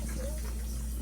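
Water rushing steadily from a campsite shower that won't shut off, a faint continuous gush over a low hum, with a brief voice-like tone in the background.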